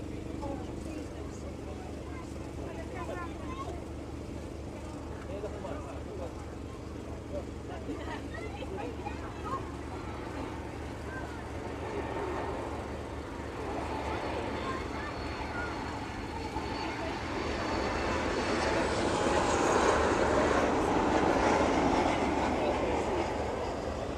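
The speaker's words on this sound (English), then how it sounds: "There we go, safely landing into East Midlands." A jet on arrival from Malaga lands at East Midlands Airport, its broad engine roar rumbling steadily and building toward the end, heard from a distance under a voice talking.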